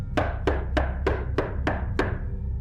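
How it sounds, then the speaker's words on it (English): Someone knocks at a door, seven evenly spaced solid thuds in a steady rhythm, close and distinct over a low background rumble, with no talking. "Someone knocking?"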